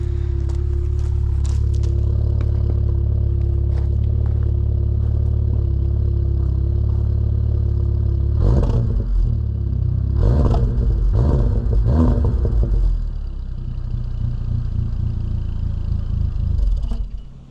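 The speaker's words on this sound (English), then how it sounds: "I can give you guys a couple revs here" A Volkswagen MK7 GTI with an AWE catback exhaust idles with a deep, steady exhaust drone, then is revved sharply several times, each rev rising and falling back before settling.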